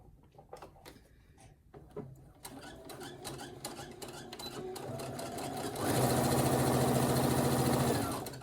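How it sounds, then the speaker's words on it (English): A Brother SE1900 sewing machine stitches a fabric pouch, its rapid mechanical whir starting softly, running steadily up close, then growing noticeably louder and denser for the final few seconds. "So I'm going to sew this right here."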